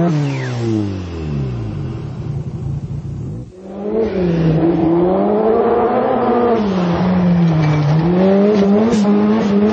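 A car drives fast with its tires gripping the road: the engine revs and climbs in pitch, briefly drops off, then surges again with a loud, sustained, wavering roar.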